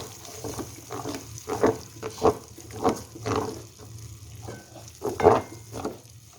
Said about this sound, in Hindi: 4 से 5 चम्मच इमली का गूदा इसके अंदर ऐड कर देंगे हम लोग और मसाले के साथ बहुत ही अच्छी तरह जो है हम इसे मिक्स कर लेंगे